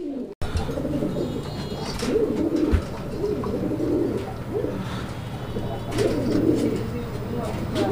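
A pair of Iceberg Damascene pigeons coo repeatedly in rolling, rhythmic bursts, loud and close, with a voice talking faintly in the background.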